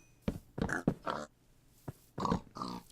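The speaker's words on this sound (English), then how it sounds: "big cluster of pigs around me" A cluster of pigs in the video game Strangelands gives a series of short, close grunts and oinks, about seven separate bursts in quick succession with brief pauses between them, and no one talks.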